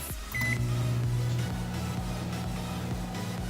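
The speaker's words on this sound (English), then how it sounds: "Pop it in the microwave, and I like to do it for 2 minutes." A microwave oven hums steadily after a short beep, its low drone continuing without break.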